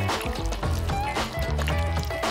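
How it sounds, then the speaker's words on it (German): Melted crayon wax poured into a mold, filling each row: a short liquid trickle and pour lasting about two seconds, moderately loud over a steady tonal background. "Jetzt gieße ich es in das Puppet und fülle jede Reihe damit."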